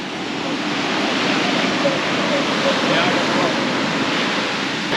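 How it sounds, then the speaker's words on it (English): Rough, churning ocean surf breaking on a beach at Búzios, a loud continuous roar of crashing water with steady wash and no talk. "So today the water is very, very rough on this beach."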